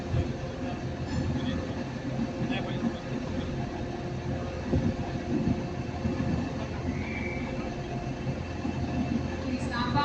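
City of Carlisle train standing at a Manchester Piccadilly platform, a steady low rumble of idling engine and station hum running throughout, with a few faint higher squeaks and a voice murmuring in the background.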